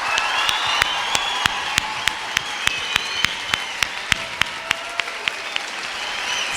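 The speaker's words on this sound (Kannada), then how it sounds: "ಜೋರಾದ ಚಪ್ಪಾಳೆ." Loud, sustained applause from an audience at an inspirational talk at a government women's college in Udupi, a dense wash of clapping punctuated by a steady rhythm of sharp, evenly spaced louder claps throughout, with no talking.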